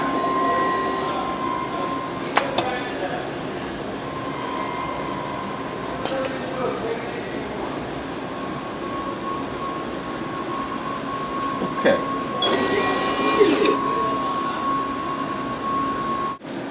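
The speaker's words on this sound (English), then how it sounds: "We will actually see the system blow clean first and then go solder your part." A Johnson Outdoor Marine soldering system hums steadily, with a few sharp clicks, then lets out a loud hissing burst of air as it blows clean near the end.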